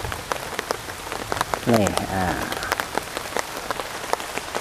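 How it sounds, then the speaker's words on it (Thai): Heavy rain pours steadily on a rainy night during a high-power flashlight test, a continuous broadband hiss of drops with someone speaking briefly over it. "ตอนนี้ฝนหนักกว่าเดิมมากๆ"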